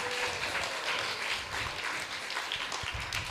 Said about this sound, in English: Let's give Mother Sita a round of applause.